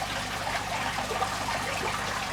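Water flows steadily out into an acrylic shrimp tank with a continuous, even trickling and gurgling wash, close and moderately quiet throughout, with no voices.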